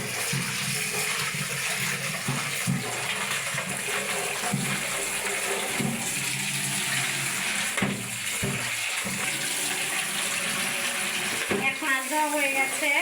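Running water rinses fish pieces with lemon in a home kitchen, a steady broadband wash with splashing and brief clatter throughout, loud and close.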